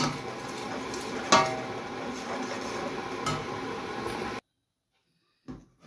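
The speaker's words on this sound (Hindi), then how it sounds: "सूजी भुन गई है, इसे हिलाते रहना है ताकि ये जले नहीं।" Semolina roasting in a pan as it is stirred, giving a soft continuous sizzle and scraping with a couple of louder knocks of the spoon against the pan, then a sudden stop into near silence.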